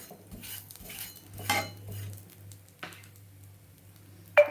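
A spatula turns food over in a pan, with soft scrapes and light metallic knocks over a faint low hum, ending in a sharper clatter close by.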